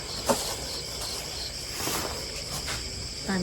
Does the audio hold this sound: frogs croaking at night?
yes